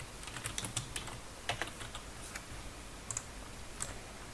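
Quiet clicks of typing on a computer keyboard come in short irregular bursts, close but faint, with no voices.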